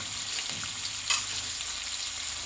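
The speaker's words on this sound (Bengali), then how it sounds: "দিয়ে মশলাটাই ভালোভাবে কষে নেবো" A spice paste of ground cumin, tomato, salt and turmeric fries in a pan with a steady close sizzle, and a spoon scrapes through it a couple of times.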